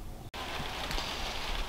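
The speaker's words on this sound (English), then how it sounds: "And now it's raining." Steady rain falling outdoors beside a car being repaired, a continuous soft hiss with a brief dropout, heard alone with no talk.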